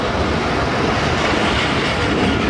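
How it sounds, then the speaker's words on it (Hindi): A passenger train hauled by a locomotive rolls into busy Landhi Junction in Karachi, a loud, steady rumble of wheels and carriages with clickety-clack filling the whole stretch. "अचानक से ही आ गई ट्रेन"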